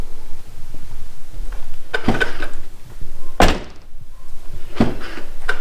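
A car door shuts several times with solid thunks, each followed by a brief rattling buzz from the window inside the door of a C7 Corvette.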